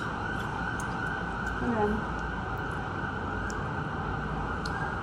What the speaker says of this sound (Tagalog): Ako may dumaan na ambulansya.